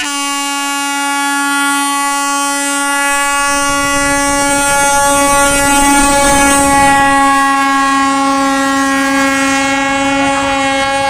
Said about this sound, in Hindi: आपको आवाज़ सुनाई दे रहा होगा ट्रेन का।